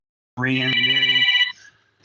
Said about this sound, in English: Got a phone call coming in.